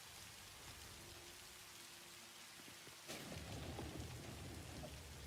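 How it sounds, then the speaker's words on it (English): Rain falls steadily in the video game Satisfactory, then a sudden thunder crack about three seconds in leaves a heavier rumbling downpour, all fairly quiet. "I am super pleased with the rain."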